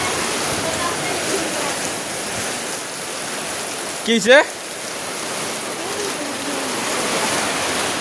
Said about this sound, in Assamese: এতিয়াও চাব পাৰে পুৰা বতাহ বৰষুণ এক জাগত আহিছে পুৰা শিলগুটি